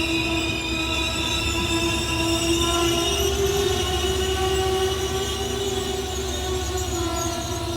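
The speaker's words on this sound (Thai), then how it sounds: "เป็นรถนอนปรับอากาศ ชั้นหนึ่งและชั้นสองทั้งขบวนเลย" Hitachi diesel locomotive 4522 hauls special express train 32 from Hat Yai to Bangkok, made up of air-conditioned sleeper cars, at a station. A loud, steady engine drone sounds close by with a long, sustained horn-like tone over it.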